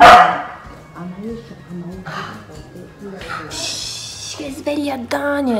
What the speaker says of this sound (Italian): Questo cane abbaia costantemente durante il giorno.